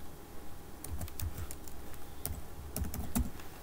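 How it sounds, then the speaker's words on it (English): Steady typing on a computer keyboard, quick soft key clicks in short irregular runs, close and fairly quiet, with no voices. "so I can type anything"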